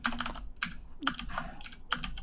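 Typing on a computer keyboard during programming, quick clusters of clicky keystrokes with short pauses between bursts, close and fairly quiet, with no talk.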